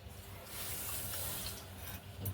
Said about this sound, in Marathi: दीड कप कप आपण पाणी टाकतोय